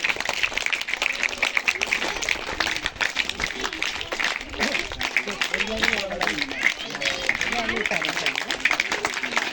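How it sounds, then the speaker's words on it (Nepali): Audience clapping at a welcome programme during a warm-clothes distribution, steady and continuous throughout, with voices and crowd murmur mixed in. "निरन्तर ताली पड्काइरहनु होला भाइ बहिनीहरू"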